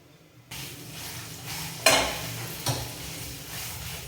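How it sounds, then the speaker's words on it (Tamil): Mustard seeds crackle and sizzle steadily in hot oil, with a couple of sharp louder pops and a faint clink of a utensil against a pan. "கடுகு எண்ணெய் வெடிக்கட்டும்"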